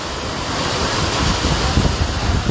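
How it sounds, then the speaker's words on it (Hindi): Strong wind and heavy monsoon rain in Balotra town, a steady loud broadband roar of gusting air and downpour with no pauses, close and continuous throughout. "तेज हवा है, हवा के साथ में अच्छी बारिश है बालोतरा की।"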